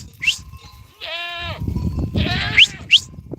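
Goats in a mountain herd bleat in short, close calls, with one long wavering bleat in the middle. Whistles and shuffling sounds are heard around the calls.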